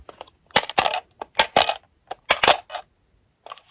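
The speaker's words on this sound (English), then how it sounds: "I will roll the dice again and it will land on a 1, 2, 3, 4, 5, or 6" Dice rolled during a reading game clatter in a few quick bursts of bright rattling hits, close and fairly loud, with short pauses between tumbles.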